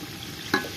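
Spices fry briefly in an onion and tomato paste, making a low, close sizzle. A quick stirring scrape near the end briefly makes it louder.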